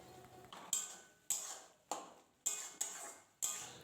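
A spoon knocking against a pan while mashed tomatoes are stirred and fried, a series of about six sharp metallic clinks at a steady pace, each fading quickly over a soft frying hiss.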